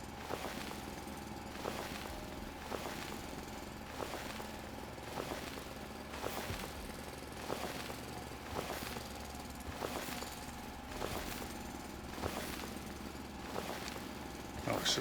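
Repetitive mechanical drilling from the Foundry video game, digging down through the ground in a lava cave area, with regular pulsing bursts over a steady machine hum and low rumble, moderately loud throughout.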